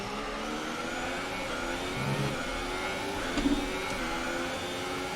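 Formula 1 car engine in the F1 2018 racing game at Suzuka, a steady high-pitched droning whine with shifting revs and a couple of brief louder surges, continuous and close throughout.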